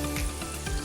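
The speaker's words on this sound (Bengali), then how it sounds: "এবার আমি সিদ্ধ করে রাখা তরকার ডালটা এর মধ্যে দিয়ে ভালো মতো মিক্স করে নেব।" Boiled tarka dal stirred into a pan of frying masala gives a brief, close sizzle with two soft scraping strokes of stirring.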